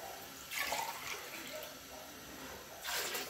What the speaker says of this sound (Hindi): मैंने 2 चावलों के ग्लास भिगोए थे तो मैं उसमें 3 ग्लास पानी ऐड करूँगी।